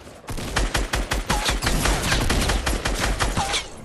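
Rapid bursts of SCAR assault rifle fire in the Fortnite video game, many sharp shots in quick succession forming a dense, loud fusillade with short pauses, up close.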